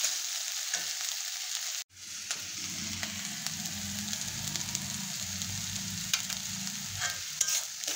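Chole masala sizzles in hot oil in a pan while being stirred, a steady close crackle and frying hiss with scraping stir sounds and a brief break near the start.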